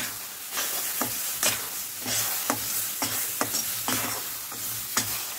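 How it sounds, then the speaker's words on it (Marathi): Mango pulp fries with semolina and ghee in a nonstick kadhai, a soft constant sizzle under repeated rhythmic spatula scrapes and stirs, close and unaccompanied by talk. "हा रस आता आपण मस्त फ्राय करून घेऊ रव्यासोबत"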